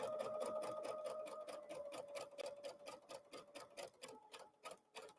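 Sewing machine stitching at a quiet, steady pace, a rapid regular ticking of needle strokes with a soft motor hum, running alone and slowing toward the end.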